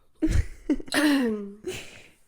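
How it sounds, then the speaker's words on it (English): A drawn-out, guttural burp follows a short throat-clearing noise, close and fairly loud, with a brief breathy sound after. "I'm gonna burp again, bro."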